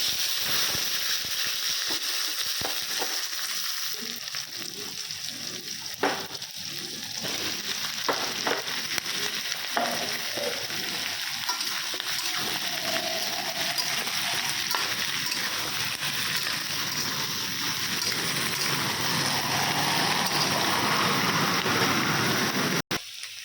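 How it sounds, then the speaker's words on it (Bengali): Meat with small cut potatoes, onion, ginger, cumin and green chilli frying in a pan, a steady close sizzle with occasional stirring scrapes, fading slightly toward the end. "এই মাংসটা এরকম ছোটো ছোটো আলু পেঁয়াজ কেটে মা করছে রাত্রে রুটি খাওয়ার জন্য"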